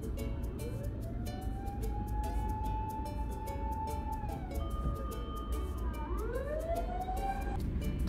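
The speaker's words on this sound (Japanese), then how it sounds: "さっきからね、消防車がいっぱい来ると思ったら" Fire engine sirens pass on a road in Japan, wailing tones rising and falling as several vehicles go by, heard at moderate distance over steady traffic rumble, with no talking.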